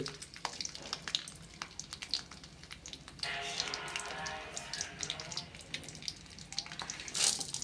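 Pirandai thuvaiyal ingredients sautéing in a pan, a steady crackling sizzle that swells after a few seconds amid scattered clinks and stirring, close and moderately quiet.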